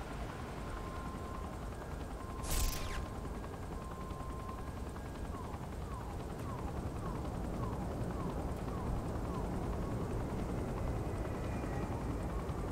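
A helicopter in the video game Saints Row 4 drones with a steady low rotor rumble, broken by a sharp burst early on and a run of short repeated beeps, loud and continuous throughout.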